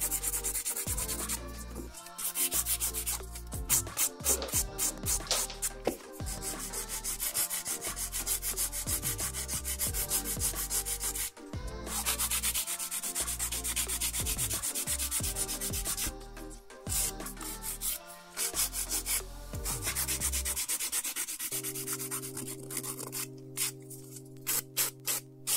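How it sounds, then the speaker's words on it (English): Nail file rubbing across an acrylic nail to remove the top coat, a steady close scratchy filing in repeated strokes with brief pauses, heard alone. "I'm going to take off the top coat by filing that."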